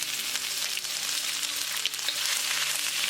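Ginger frying in heated oil on a low simmer flame for chilli chicken, a steady bright close sizzle with faint crackles, no voices.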